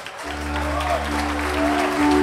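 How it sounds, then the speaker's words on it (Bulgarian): Wedding guests clap for the newlyweds while brass band music with steady sustained tones plays underneath, the applause building gradually and continuing throughout. "Гостите, много аплодисменти, младоженците ги заслужават"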